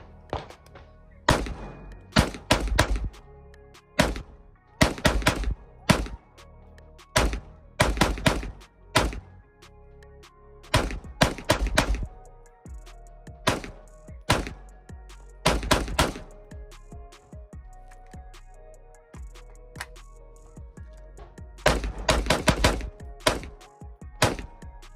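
Suppressed shots from a PSA Sabre 11.5 rifle fitted with a SilencerCo Velos LBP suppressor, fired in a long uneven string of sharp, loud reports, some singles and some quick pairs and bursts, with short quiet gaps between them.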